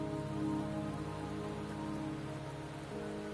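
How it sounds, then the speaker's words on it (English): Steady rain pours in the video game Wuthering Waves, a dense, even hiss that runs the whole way through with sustained musical tones layered over it and no voices. "Don't worry, the rain won't last much longer."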